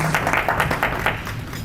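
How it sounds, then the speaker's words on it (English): Audience at a business coalition event giving a round of applause for a congressman, with dense, fairly close clapping from many hands heard alone, steady and fading slightly at the end. "another round of applause for Indian-American friendship through Congressman Danny K. Davis"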